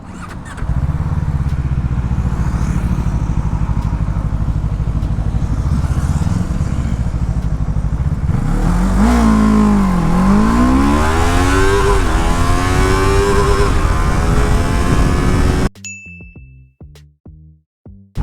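A Jedi Motor K-333 twin-cylinder sports bike accelerating hard from standstill to 100, loud and close, its engine note climbing through rising gear pulls before cutting off near the end into brief clicks and knocks.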